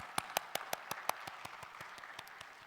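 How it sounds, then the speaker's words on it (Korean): Congregation claps at a church worship service, a steady run of sharp, fairly close hand claps with an even rhythm of about six per second that softens and blurs slightly toward the end, with no voices over it. "계신 곳에서 주님께 영광의 박수 올려주세요."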